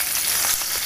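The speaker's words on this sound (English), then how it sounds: "sizzle away." Hot oil hisses and crackles steadily, a dense close sizzle of cumin and ajwain seeds frying with no other sound.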